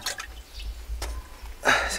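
Water splashes out of a roadside drinking-water container beside a road in Asia: a few faint drips, then a short, close, bright gush of pouring near the end, with no talking.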